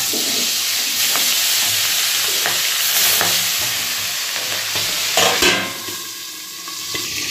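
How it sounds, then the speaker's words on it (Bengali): Rithe fish frying in hot oil in a wok, a loud continuous close sizzle with scattered crackles and a brief louder burst of spattering near the end. "তেলটা গরম হয়ে গেছে, ওইদিকে মশলাটাও করেছি, হয়ে গেছে মশলা। আগে মাছটা ভেজে নিই।"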